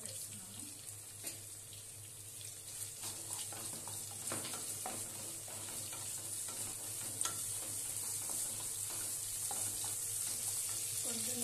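Crushed garlic frying in a pan for a mixed curry of brinjal, potato and tomato, giving a faint, steady background sizzle with light scattered clicks and some running-water hiss throughout.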